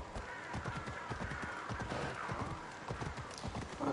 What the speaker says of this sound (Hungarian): Hol a lovam? Köszönöm, gyere ide, paci.